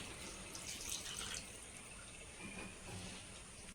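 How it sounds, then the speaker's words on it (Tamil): Water is poured into the masala for a basmati rice chicken biryani, a soft continuous splashing pour at low level that runs steadily and cuts off at the end, with no talking. "மசாலாலே தண்ணி வந்து சேர்த்துக்கிறேன்."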